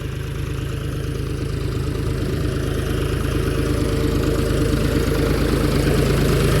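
A tractor engine idles on a potato farm, a loud, steady low rumble with a constant mechanical chug that holds unbroken throughout.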